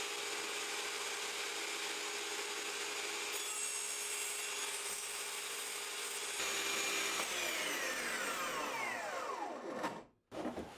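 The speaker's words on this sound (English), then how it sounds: "get the battery and the saw, and I'm going to push this fence that I've just clamped on through the blade," A battery-powered saw cuts a slit through clamped plywood, a steady continuous whine and rasp of the blade in wood running nearly the whole time, then spinning down and stopping near the end.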